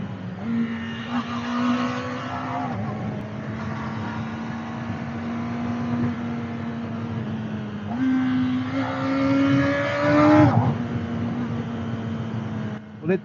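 A Kawasaki ZX4-RR motorcycle engine drones steadily, then its pitch climbs in rising sweeps as it revs and accelerates, loud and close throughout.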